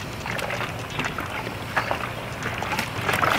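A Wonder Wash hand-crank washing machine spins laundry at a slow, steady pace, giving a continuous watery churning and sloshing with soft rhythmic swells, close and moderately loud, with no talk over it.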